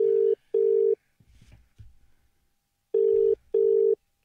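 Telephone ringback tones on an unanswered call: two long steady beeps, a pause with faint muffled sounds, then two more beeps, loud and close, with no voice.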